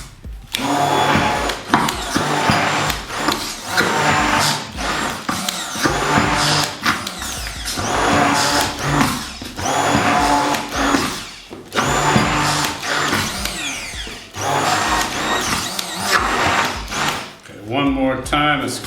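A food processor grinds sprouted chickpeas into raw hummus, a loud, continuous churning whir with rhythmic surges as the paste is worked, while a person talks over it throughout.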